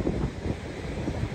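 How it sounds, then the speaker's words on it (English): Wind on a beach on the Outer Banks near Ocracoke Island, North Carolina; a faint, brief rumble of wind buffeting the microphone with soft low gusts. "It's a bit windy."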